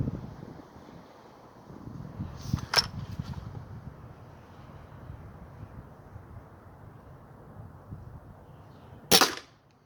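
Two sharp air rifle reports from a Chinese B2 or B3 spring air rifle, one around the third second and one near the end, each short and crisp, with steady wind noise rumbling across the microphone.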